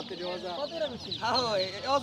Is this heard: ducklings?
yes